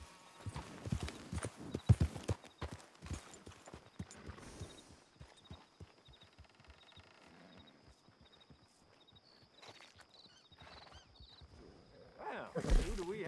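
Horse hooves clip-clopping in the video game Red Dead Redemption 2, a run of close, irregular steps that slows and fades, followed by quieter ambience and a voice at the end.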